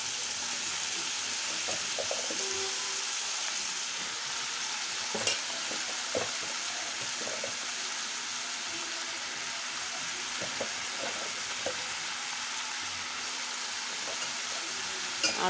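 Snake gourd sizzles in a hot pan with a soft, steady frying hiss while a spoon stirs it, scraping and clicking at irregular intervals, quiet and close with no talking.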